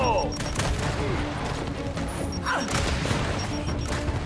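Grenade blast in the Gears 5 Horde mode, a loud booming explosion amid dense continuous gunfire and battle noise, with shouted voices over the chaos.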